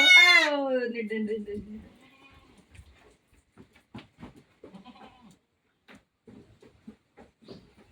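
A goat on a farm gives a loud, wavering bleat near the start, then only faint scattered movement and soft background noises follow.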